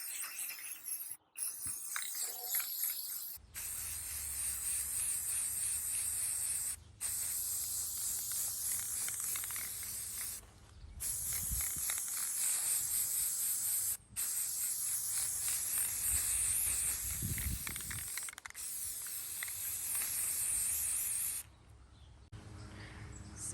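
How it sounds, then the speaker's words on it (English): A spray can hisses in long continuous bursts, broken by a few brief pauses, close and steady, with no talking. "now we're going to take our handy dandy spray paint and just"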